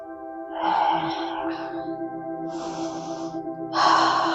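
Heavy, audible breathing during a yoga tree pose, with a few gasping, raspy breaths in uneven bursts close to the mic and a soft background tone underneath.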